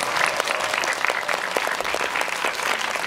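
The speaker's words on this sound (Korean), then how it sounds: "여러분 박수 부탁드립니다" An audience at a guest-visit movie event in a Lotte Cinema World Tower theater, attended by actor Jo In-sung, claps in steady, dense applause that fills the room without letting up.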